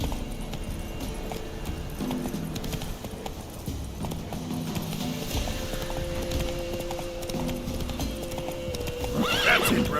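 Roach, the horse from the Witcher 3 video game, gallops with steady clip-clop hoofbeats over a dense game soundscape, then gives a loud whinny near the end.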